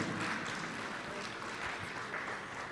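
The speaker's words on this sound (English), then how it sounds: "Give the gentleman a big round of applause, ladies and gentlemen" An audience at an education honours award ceremony gives an honoree sustained applause, a soft, continuous roll of many clapping hands heard from a distance, steady for the whole stretch.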